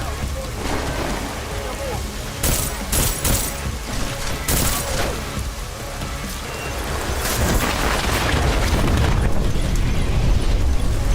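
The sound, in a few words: mine explosion in video game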